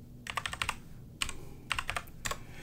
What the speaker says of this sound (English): double click and type that in